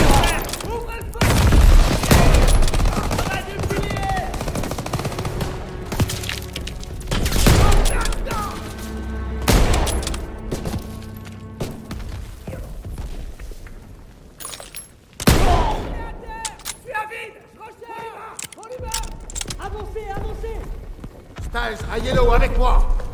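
Gunfire in Call of Duty: WWII, with rapid bursts of automatic weapons and loud booming shots packed together across the whole stretch, mixed under shouted commands from soldiers.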